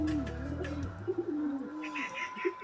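High-flying pigeons coo softly and repeatedly close by in a loft, their low throaty calls overlapping with faint rustling.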